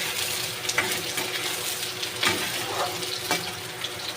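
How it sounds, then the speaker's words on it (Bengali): Onions fry until brown in a pan, a steady hissing sizzle with a few soft stirring scrapes, at a moderate level. "ভালো করে বাদামি করে ভেজে নেব।"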